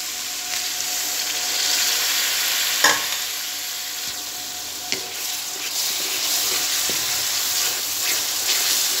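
Green chilies and masala tinda (Indian round gourd) frying in a pan, a steady close sizzle and hiss with a couple of brief stirring clinks, no talking.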